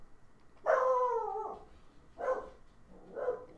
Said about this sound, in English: What's my dog barking at?